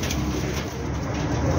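Pigeons cooing, soft low calls over a steady noisy background, close and continuous through the brief moment.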